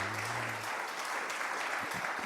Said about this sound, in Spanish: Le damos un aplauso de bienvenida a estos hermanos